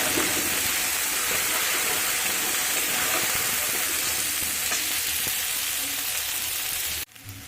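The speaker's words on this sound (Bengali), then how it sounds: "মশলাটা কষা কষা হতে দেবো।" Spice masala for aam dhoka sautés in a hot pan, a loud, steady close-up sizzle with faint stirring scrapes, continuous until an abrupt cut near the end.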